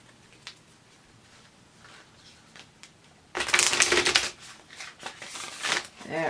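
A deck of oracle cards gets a casino-style shuffle: after a few soft ticks, a dense, close riffle of flapping card edges starts suddenly and carries on in quick pulses to the end, with no one speaking.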